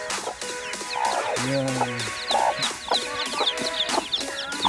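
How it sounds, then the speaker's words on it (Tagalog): A hen in a backyard clucks repeatedly and close, with a short squawk partway through, while chicks peep and other fowl call around her. Someone speaks briefly. "Ito naman yung manok ko na ang daming napisa."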